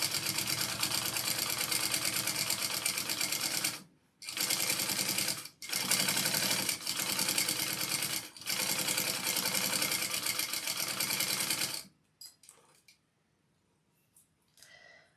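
A sewing machine stitches a Juanita bag by Shamballa Bags in long, loud, steady runs of rapid whirring, broken by short pauses, then stopping with a few faint clicks and handling sounds.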